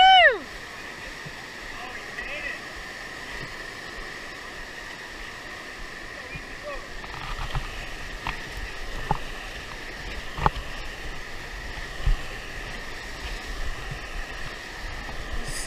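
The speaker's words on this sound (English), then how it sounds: "There's so much rushing water." Rushing water of the Deschutes River during a rafting trip makes a steady, broad roar, with occasional knocks and splashes and faint voices in the background.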